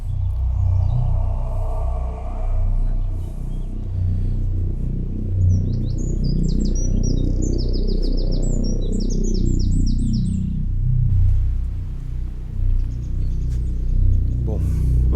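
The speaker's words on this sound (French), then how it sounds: "Bonjour petit oiseau." Small birds chirp in short bright bursts over a steady low outdoor rumble, likely flowing water, near a stream in a quiet wooded village setting; the calls come mostly in the middle of the stretch and fade out afterward.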